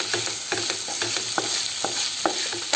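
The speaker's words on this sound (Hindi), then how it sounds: "मिक्स करके" Food being stirred and mixed in a hot pan before tomato goes in, with regular scraping spoon strokes over a continuous sizzle, close and fairly loud, no voices.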